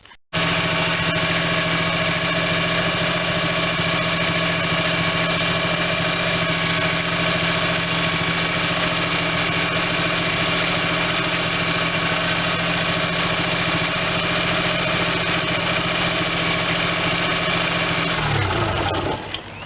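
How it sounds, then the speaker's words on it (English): A 1992 Geo Metro LSi with a 3-cylinder 1.0L engine, fully warmed up after an intake manifold gasket replacement, idles high and steady with an even, buzzing hum for nearly twenty seconds before shutting off at the end. "It's idling at about 1500"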